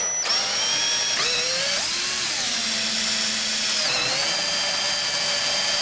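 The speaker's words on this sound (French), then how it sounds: "Je vais le faire à la scie cloche." Power drill driving a hole saw through wood while a bird nest box is being made, a loud whining bite whose pitch sags and recovers as the cutter loads and frees up, with no talk.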